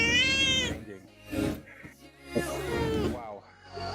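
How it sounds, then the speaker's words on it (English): A female cat in heat gives a long, drawn-out yowl, then a series of shorter meows and whining cries, loud and close. Some sounds in between may be human voices. "that cat is something."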